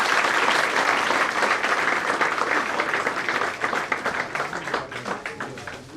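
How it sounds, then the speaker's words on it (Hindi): A crowd at a retirement ceremony bursts into loud, sustained applause, many hands clapping together before the sound gradually thins and tapers off toward the end. "तालियां बजती रहे, तालियां।"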